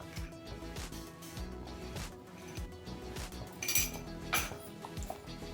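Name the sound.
stirring palak paneer in a pan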